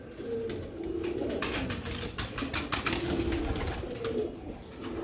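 Pigeons of a single bloodline coo in a loft, overlapping soft throaty calls repeating steadily under a constant background hum, with occasional rustling.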